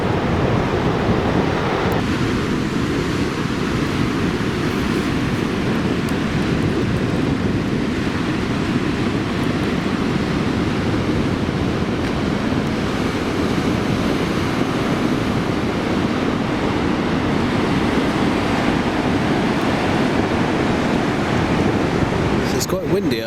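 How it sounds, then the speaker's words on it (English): Strong wind and ocean surf pound the coast at the Twelve Apostles on the Great Ocean Road, a steady, dense roar of gusts and breaking waves filling the whole stretch with no pauses. "It's quite windy out there today."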